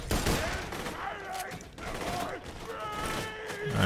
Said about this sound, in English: That buzzard is so far away to be shooting at me.